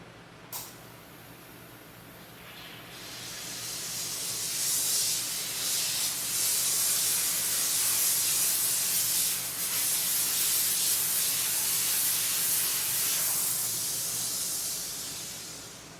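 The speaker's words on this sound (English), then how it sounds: "combine the rinseless with the steamer, and we'll get those areas completely clean" A steam cleaner hisses over the running boards of a 1937 Hudson Terraplane, a short pop followed by a long, loud, continuous spraying jet that swells and holds close to the microphone before easing off, with no talking.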